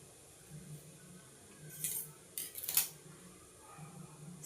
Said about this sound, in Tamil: நான் எக்ஸ்ட்ரா இருக்கிற இதை நான் கட் பண்ணி எடுத்துடுறேன்.